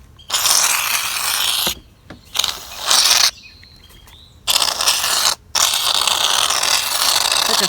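Shaving cream hissing loudly out of a pressurised can onto a tray in long bursts separated by short pauses, with sputtering and crackling between sprays.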